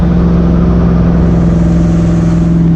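A turbocharged car engine revs hard on a street dyno, a loud, steady mid-pitched drone with strong harmonics rising slightly in pitch as it holds high RPM.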